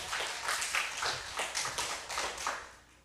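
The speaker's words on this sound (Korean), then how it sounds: "자, 응원의 박수 한번 치겠습니다." A church congregation claps in encouragement during a revival service, a fairly close, rhythmic run of group hand claps in roughly even beats that fade slightly toward the end.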